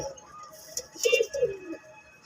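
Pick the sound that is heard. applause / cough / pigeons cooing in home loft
pigeons cooing in home loft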